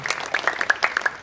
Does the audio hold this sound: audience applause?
yes